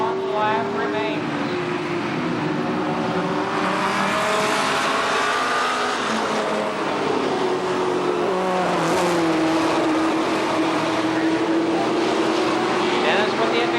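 Race cars roar around Columbus Motor Speedway in a close last-lap battle, engines loud and sustained with rising and falling pitch as they pass, under a track announcer's excited commentary.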